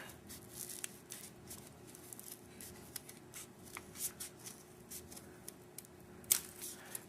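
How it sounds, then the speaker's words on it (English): Small scissors snip through folded paper while a paper pumpkin decoration is cut out, a series of quiet, close crisp cuts and rustles at an irregular pace. "fold it in half, form a crease, and then cut another arc."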